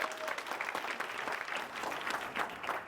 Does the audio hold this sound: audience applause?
yes